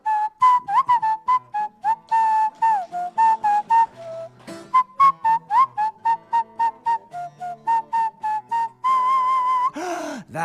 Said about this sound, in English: And if I don't whistle